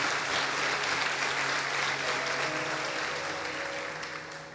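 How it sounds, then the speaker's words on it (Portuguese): A church congregation at a Sunday celebration service applauds together, a loud sustained wash of clapping with a faint held musical tone underneath, easing off near the end. "Aplauda o Senhor com alegria."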